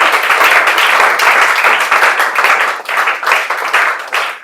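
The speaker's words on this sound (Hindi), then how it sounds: "इनके लिए जोरदार ताली बजा दीजिए आप लोग।" Loud, sustained applause from an audience at a class 10 board results celebration, dense clapping filling the whole stretch without pause.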